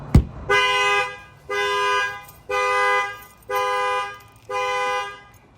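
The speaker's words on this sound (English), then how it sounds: "the alarm's going off" A 2024 Chevy Colorado's factory alarm, set off by its shock sensor, blares in five evenly spaced, loud horn blasts of about a second each, following a sharp bang at the start.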